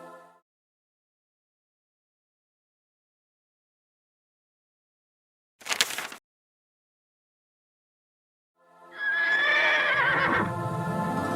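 A horse whinnies loudly and close by, a long shrill neigh after a short burst of noise and a stretch of silence.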